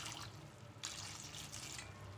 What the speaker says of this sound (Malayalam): എന്നിട്ട് നമുക്ക് ഇതിലേക്ക് സ്വല്പം വെള്ളം ഒഴിച്ചു കൊടുത്ത്